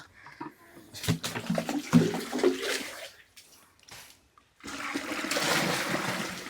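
Pond water is poured into a drum, starting with uneven splashes and gurgles, then a short quiet gap and a steady, louder rushing pour near the microphone.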